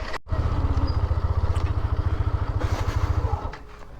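A Rapido bike taxi motorcycle engine runs steadily while riding, with a close, rapid pulsing thrum and a little clatter throughout before it eases off at the end.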